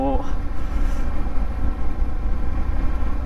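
A Yamaha MT-07 motorcycle engine gives a deep, steady low rumble during a test ride, continuous and fairly loud, with a voice briefly heard at the start.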